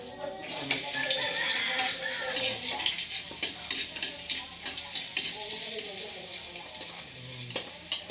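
Onions are tossed into a pan of frying dried fish, setting off a loud steady sizzle with stirring scrapes, while a voice talks over the cooking.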